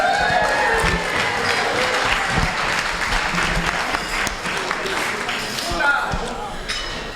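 Banquet audience at a bilingual conference dinner cheering and applauding for André, a sustained dense wash of clapping with whoops and shouts, loud and steady throughout.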